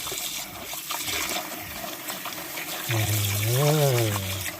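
Water poured over raw pork liver in a bowl for washing, a splashing, trickling pour under steady background noise, followed by a short rising and falling tonal swirl near the end.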